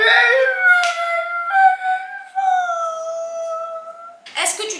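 Dogs howl in long, sliding, drawn-out tones that hold steady for several seconds, fairly loud and close, ending in a brief burst of noise.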